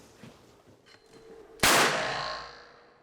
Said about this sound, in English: All right, Jamie, this is 3 cigarette butts, 80 grains of black powder from 7 feet.